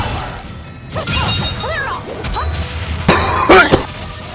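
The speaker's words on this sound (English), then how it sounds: "I absolutely had to blow my nose." Someone blows their nose in a couple of loud, forceful bursts near the end, after some quieter rustling and small sounds.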